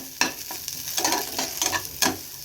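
Potatoes fry in a pan with a crackling sizzle, broken by sharp scraping clicks of stirring that repeat every half second or so, close and clear.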